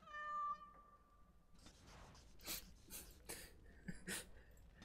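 A cat meows in Dragon Age: Origins, one clear high meow near the start, then soft scuffs and breathy noises at low level.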